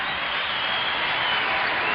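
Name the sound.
basketball crowd cheering as Lakers leave the floor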